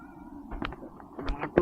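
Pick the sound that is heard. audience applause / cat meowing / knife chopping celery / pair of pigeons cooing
cat meowing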